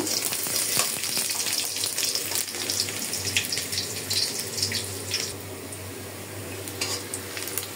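Steady sizzling of red lentils frying in hot oil in a wok, loud and close, with occasional scraping of a utensil and a low hum beneath.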